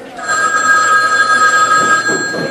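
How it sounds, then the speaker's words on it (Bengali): An old-style telephone bell rings in a Bengali radio suspense drama, a continuous trilling ring lasting about two seconds, loud and close, then fading as the ringing stops. "অফিসে ফিরে আসার ঘণ্টাখানেকের মধ্যে উত্তর দিঘি থেকে বিরাজ দত্তর কাছে ফোন এলো"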